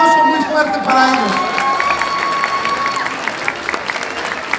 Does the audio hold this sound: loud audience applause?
yes